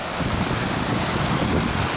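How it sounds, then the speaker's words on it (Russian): A spring stream babbling along a woodland walking path, a steady broadband wash of running water that fills the whole clip with no speech over it. "Какой прекрасный ручей, наверное, заглушает меня"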